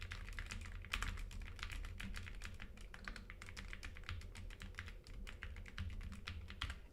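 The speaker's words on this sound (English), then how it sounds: "I like the way my keyboard sounds" Fast, steady typing on a computer keyboard, close up, with crisp clicky keystrokes in an unbroken stream and no talking over them.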